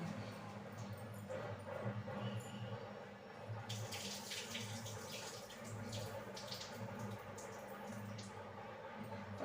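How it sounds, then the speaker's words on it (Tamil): Faint running water and sloshing as flattened rice is rinsed in a bowl, with splashy bursts midway and soft background noise. "இப்போ நம்ம ஒரு கழுவு கழுவிக்கிறோம்"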